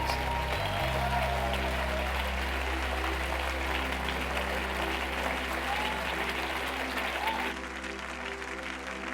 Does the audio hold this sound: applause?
yes